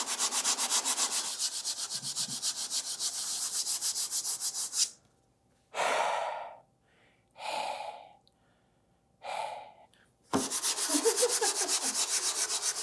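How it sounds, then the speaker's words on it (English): Sandpaper is rubbed by hand along a prop sword blade in fast, even strokes. A few separate short scrubbing bursts follow with quiet gaps between them, and then a steady run of strokes resumes. "doing the rest of it by hand with some Hunter grit"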